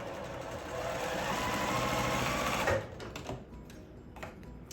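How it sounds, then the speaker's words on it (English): A sewing machine runs steadily stitching the corners of a baking-day quilt block, its fast mechanical whir and tick continuing for about three seconds before stopping, followed by a few light handling clicks. "So I'm going to sew all of these on each of these corners"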